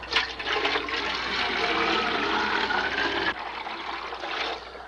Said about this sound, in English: It's called siphoning, a common phenomenon wherever fluids and gravity are found.